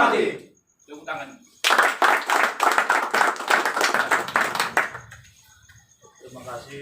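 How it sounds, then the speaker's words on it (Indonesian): An audience claps hands at a PBB party branch mandate handover in Medan Sunggal, a dense burst of applause lasting about three seconds, framed by speech before and after. "tepuk tangan."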